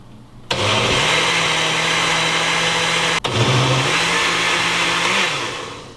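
A blender whirs loudly, mixing a mango lassi of mango, milk and yogurt. The steady motor roar starts abruptly, pauses for a split second, restarts and then winds down, with no talk over it.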